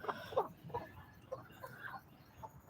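Buff Orpington chickens cluck softly in a yard, several short, scattered clucks and murmurs spread across the moment, faint and somewhat distant.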